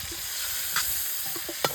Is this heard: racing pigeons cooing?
no